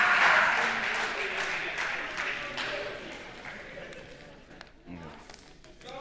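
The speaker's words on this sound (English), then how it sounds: "A big round of applause for Maneuver, everyone." Audience applause at a startup venture day in Madrid, clapping loudest at the start and gradually fading, with voices speaking underneath toward the end.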